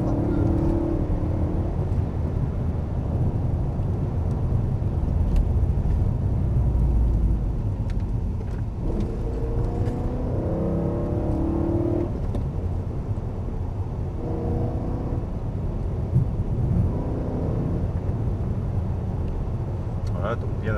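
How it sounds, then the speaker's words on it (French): A BMW M3 accelerating on the Michelin test-centre race circuit near Salon-de-Provence, engine tone rising and falling in pitch as it pulls hard, heard from inside the car with people talking over it at times. "Allez, vas-y, accélère."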